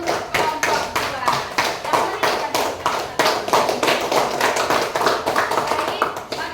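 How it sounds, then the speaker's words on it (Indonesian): A classroom of elementary school pupils claps together in a steady, rhythmic unison beat for a student group, close and loud, with some voices mixed in. "berikan tepuk tangan dulu untuk kelompok 2"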